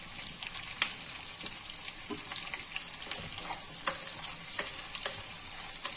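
Sliced onion and cut green chillies fry with whole spices like cardamom, cloves, mace and fennel, giving a light continuous sizzle broken by frequent clicks of a spatula stirring the pan, with no talking.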